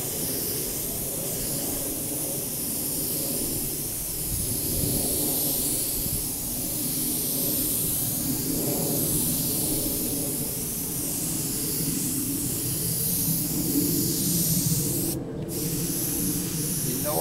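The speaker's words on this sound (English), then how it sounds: "if you only knew how much I love working with an airbrush" Airbrush spraying paint onto Kawasaki motorcycle parts: a steady, close, continuous hiss of compressed air with slight swells that runs the whole time, with no voices.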